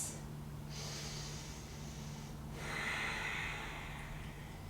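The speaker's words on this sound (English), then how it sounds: "2 more beautiful breaths." Slow, deep breaths during a yoga flow, with two audible inhale-exhale cycles drawn through the nose, close and fairly quiet over a low steady hum.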